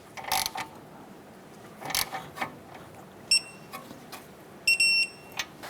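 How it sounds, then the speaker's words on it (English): A torque wrench tightens the outer tie rod nut on a 2008-2012 Honda Accord during a steering rack bellow replacement: close, scattered ratcheting clicks and two short electronic beeps, with no talking. "Let's go ahead and torque down our outer tower nut to 40 foot-pounds."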